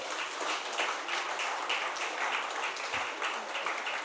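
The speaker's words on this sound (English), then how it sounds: "I'd like to give a lusty round of applause for all the awardees at this time" Steady, fairly distant round of applause from an audience at a farmers appreciation and awards ceremony, even and continuous throughout with no voices over it.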